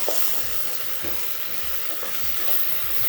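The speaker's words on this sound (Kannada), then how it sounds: "ಈಗ ಅವರೆಕಾಳು ಎಲ್ಲ ಹಾಕಿದ್ದೀವಿ, ಚೆನ್ನಾಗಿ ಫ್ರೈ ಆಗಬೇಕಿದು." Field beans (avarekalu) fry in a pan for a green pulav, giving a continuous hiss and sizzle with repeated low scraping strokes from stirring, close and steady with no talking.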